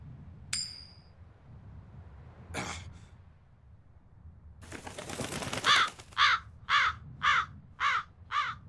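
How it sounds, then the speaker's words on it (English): Crow cawing in the Tales of Berseria video game, starting with a single harsh call and then a rapid run of six loud, evenly spaced caws, with a few sharp game sound effects before them. "That crow just flew off with the coin!"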